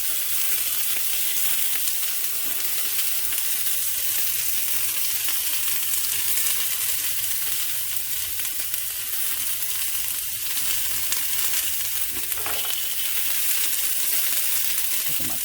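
Strips of banana peel bacon sizzle and crackle steadily in a hot frying pan, a loud continuous hiss that stays even throughout with no talking.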